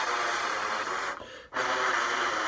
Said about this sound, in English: this overblowing, as you can imagine, is blowing out the aperture, okay, and making it not a clean buzz